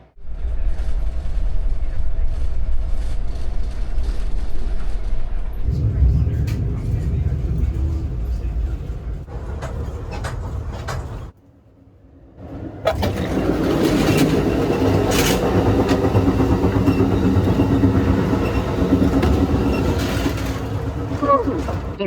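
Passenger train departing a station on a motorcycle trip through West Virginia: a low rumble swells and the noise thickens as the cars get underway, then a brief lull before loud, steady rolling and clatter, with people talking around it.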